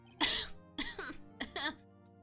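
Three rough coughs in a row, each a short harsh burst with a throat-clearing edge, close and loud with brief pauses between.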